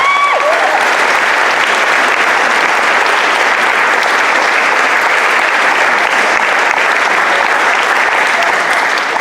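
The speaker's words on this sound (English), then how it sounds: "They deserve a round of applause." Loud, dense applause from a concert audience at a state all-star high school jazz concert, a continuous roar of many hands clapping at once, even and sustained throughout with no talk over it.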